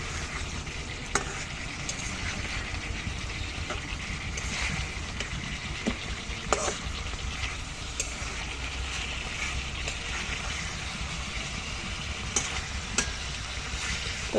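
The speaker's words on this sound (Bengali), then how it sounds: "মাছ দিয়ে একটু হালকা করে একটু মশলার সাথে কষিয়ে নেব।" Fried tilapia pieces being stirred into spiced masala in a pan, giving a steady low sizzle with scraping stir clicks throughout, no voices.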